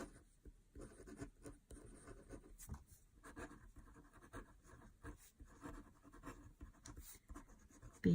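Ballpoint pen scratching across paper in a quiet room, a steady run of short strokes and faint scribbles lasting several seconds, close and soft, with no voices.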